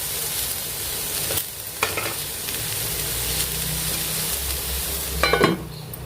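Broad beans sizzle steadily in a pan while a spoon stirs through them, with a few sharper scraping clatters near the end over a constant frying hiss.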